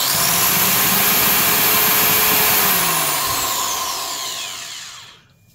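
A Ryobi TC401 12 amp tile saw runs with a loud, steady motor whine and broadband roar, then spins down and falls quiet near the end, with no talking.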